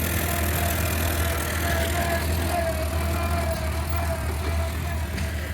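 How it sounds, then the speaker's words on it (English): Steady low engine drone and rattle from a Farmall Cub tractor pulling a family at a Southern Indiana antique machinery show, heard continuously at moderate distance amid outdoor crowd ambience. "Farmall Cub pulling a family through the show here."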